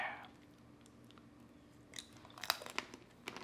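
Faint crunching bites and chewing of tanghulu, candied fruit in a hard sugar shell, a few crisp cracks clustered late after near silence, with no talk.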